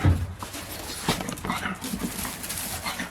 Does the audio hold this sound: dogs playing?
yes